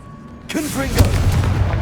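In Hogwarts Legacy on PS5, a voice shouts the Confringo fire spell, then a heavy booming blast follows with a low, rumbling tail that fills the rest of the moment.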